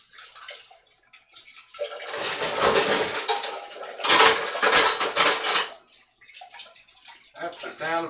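Dishes, pots and cutlery clatter and clank while being washed under running water in a kitchen, loud bursts of metallic and ceramic knocks coming in uneven waves, with a voice briefly heard near the end.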